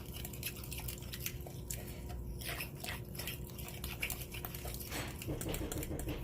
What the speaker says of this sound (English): going to give this a stir.